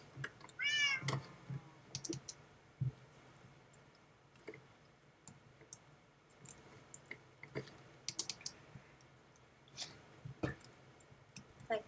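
A cat meows in a video game, a short high mew early on, followed by scattered keyboard and mouse clicks at close range in a quiet room.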